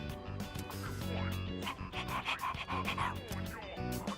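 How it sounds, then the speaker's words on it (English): A dog in Persona 3 Reload panting and giving short barks, close and fairly quiet over game music. "Demanding dog."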